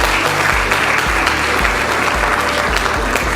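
A crowd applauds at a ceremony in Owando, with sustained clapping over music whose heavy bass thumps in a regular beat throughout.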